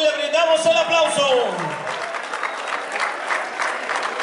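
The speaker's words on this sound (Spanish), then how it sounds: "le brindamos el aplauso" Crowd applause at a rodeo-style event in Cerro Colorado, breaking out after an announcer's voice fades, steady clapping from many hands with a raised, loud amplified voice over the start.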